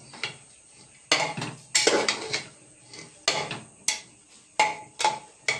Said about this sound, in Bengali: নাড়াচাড়া করে দেবো, তাহলে কি সব অ্যাড হয়ে যাবে।